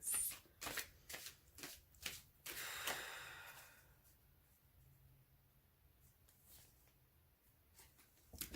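Tarot cards are riffled and shuffled in several quick bursts up close, sharp papery flutters followed by quieter handling and soft breathing, with no speech.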